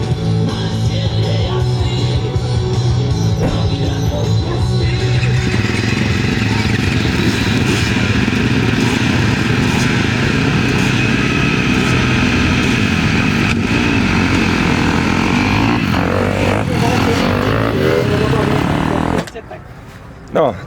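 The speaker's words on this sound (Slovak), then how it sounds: "Všetko silnejšie motorečky E2 a E3." Powerful E2 and E3 class enduro motorcycles race past, a continuous loud engine roar with rising and falling revs for most of the stretch before cutting off near the end.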